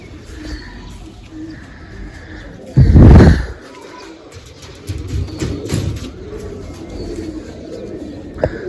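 Pet pigeons coo in low murmuring calls close by, interrupted by a short loud rustling burst, with someone talking intermittently over them.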